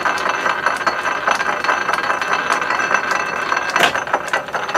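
A lathe winds wire into a close-coiled spring, giving a continuous mechanical whir with rapid rattling clicks and metallic clinks, loud and close throughout.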